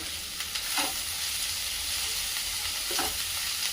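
Garlic and asafoetida sizzle in hot oil in a home kitchen while spring onion chutney is cooked, a steady close crackling fry with a couple of brief stirring scrapes, no talking.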